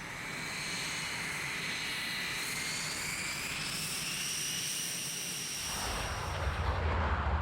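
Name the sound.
Lockheed U-2 reconnaissance aircraft flying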